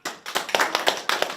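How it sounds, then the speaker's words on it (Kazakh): Applause breaks out at a Kazakh matchmaking wedding feast (құдалық той) in Shymkent: close, dense hand clapping with slightly rhythmic bursts of claps, loud and continuous for the whole short stretch. "Шапалақ бар ма?"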